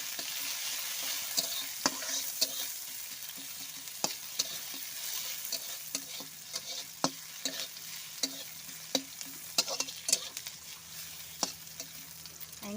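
Chopped onion with cumin and mustard seeds frying in oil in a pan while being stirred, a continuous quiet sizzle punctuated by repeated sharp clicks and taps of the spoon.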